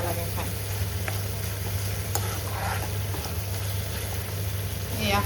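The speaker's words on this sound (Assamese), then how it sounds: "এয়া হৈয়ে গ'ল মোৰ লেটা ভাজি" Silkworms fry in a pan with a continuous sizzle and hiss, joined by faint stirring scrapes and a steady low hum underneath.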